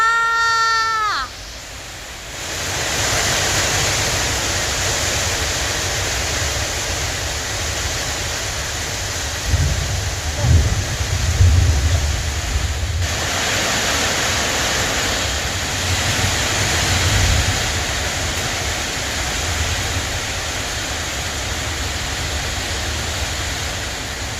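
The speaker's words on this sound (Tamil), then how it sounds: "வானம் இடி இடிக்குது செம்மையா" Heavy rain pours down in a dense, continuous hiss during a thunderstorm, with a brief low rumble of thunder swelling near the middle; a voice is heard faintly at the very start.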